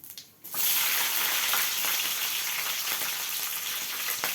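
Green chillies drop into hot oil after mustard seeds for a Telangana-style beans and tomato curry, and a loud, dense sizzle bursts up at once and crackles steadily at close range, with no voices.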